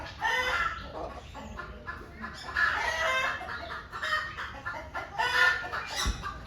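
Chickens cluck and squawk in repeated bursts at a bird park in Madurai, fairly close amid light background murmur and other birdcalls.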